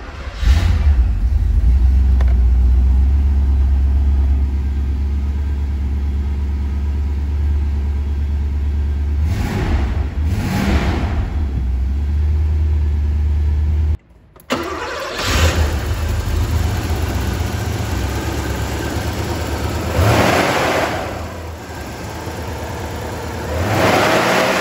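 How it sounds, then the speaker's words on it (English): A 1984 Porsche 928 S engine idling with a loud steady rumble, then two blips of revving, a brief cut, and further rises in revs, close up with no talk. "I'll show you the engine starting from an off position"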